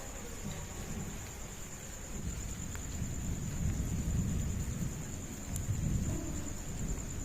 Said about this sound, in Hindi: बादल जो है वो जरूर शोर के साथ गरज, बिजली भी साथ साथ चमक रही है